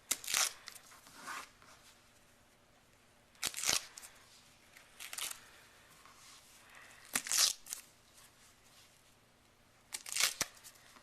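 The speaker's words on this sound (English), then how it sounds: "Then I'll just rip out these middle parts like that." Fabric or paper backing being ripped out of the middle of a raw-edge appliqué pie plate pattern, five short close tearing rips spaced a couple of seconds apart over quiet.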